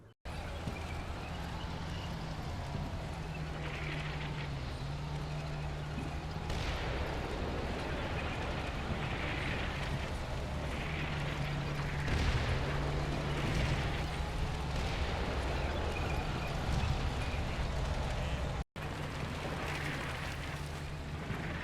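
An artillery barrage falls in the Cold War strategy game Combat Mission, a dense rumble of distant blasts and rolling booms. The thunder is continuous and fairly even, with a few rises in intensity, and a brief cut near the end.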